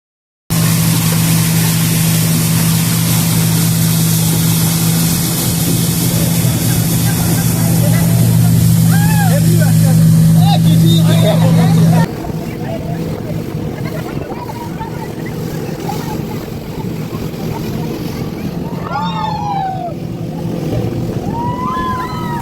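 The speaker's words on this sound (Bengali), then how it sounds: "তো বোটটি স্টার্ট হয় এবং আস্তে আস্তে ভালো লাগতে শুরু করছিল" A motorboat on the Maithon Dam reservoir drones with a steady, loud engine hum that drops away midway, leaving rushing water and wind noise, while people talk over it.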